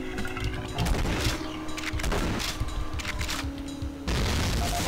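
Grenade blasts and gunfire in the game Doom: a dense, continuous barrage of booming explosions and rattling shots with a few sharp gaps and a heavy blast near the end, loud throughout.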